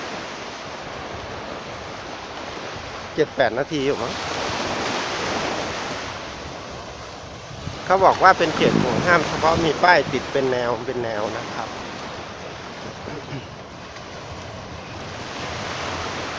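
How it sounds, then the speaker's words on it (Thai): Waves and wind at Nai Yang beach in Phuket make a steady, broad rushing roar with gusts buffeting the microphone, heard under someone speaking in Thai throughout. "ดูบรรยากาศชายทะเลไปด้วยกันนะครับคุณผู้ชม"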